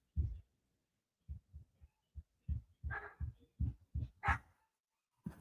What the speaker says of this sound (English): what the dog barking for?